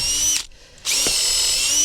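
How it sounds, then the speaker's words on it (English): A power drill boring a hole whines at high speed, briefly eases off for a moment, then spins back up to full speed. "I'm going to drill that"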